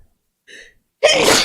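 A single sneeze bursts out loudly near the mic after a short sharp inhale, then stops.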